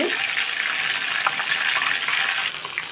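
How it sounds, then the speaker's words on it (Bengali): Fish frying in a large wok, a dense bright continuous sizzle with fine crackling that stays fairly even and close, with no voices. "মাছটা ভাজা হচ্ছে ফিশ ফ্রাই খুবই সুন্দর হবে"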